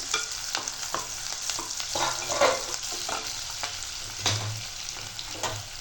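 Onions sizzle steadily in a pan while a spatula stirs them, giving a continuous close frying hiss broken by a few soft scraping strokes.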